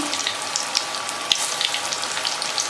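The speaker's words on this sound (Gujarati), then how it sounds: "ફૂલ આંચે જ આપણે આ પકોડાને તળીશું" Onion pakoda frying in hot oil on a full flame, a steady close hiss with fine popping crackles throughout.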